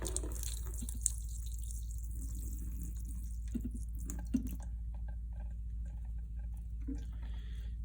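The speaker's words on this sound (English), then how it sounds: "you're just going to very slowly pour the mixture out" Rice horchata mixture being slowly poured into a pitcher, probably through a strainer on top: faint trickling and occasional drips over a steady low hum, quiet and close, with no talking.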